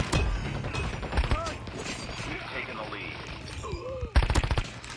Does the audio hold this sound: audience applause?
no